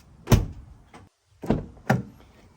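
A Ford F150 door with color-matched handles swings shut in a few distinct thumps and clicks, the latch catching with close, solid knocks and no talking.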